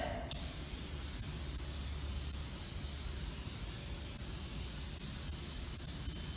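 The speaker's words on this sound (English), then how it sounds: "I'm going to spray it here" A steady aerosol fixative spray hisses continuously from start to finish after a brief click, even and close.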